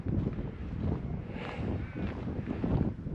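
Strong wind on a mountain hiking track buffets the microphone, a loud continuous roar with gusty swells and no talk.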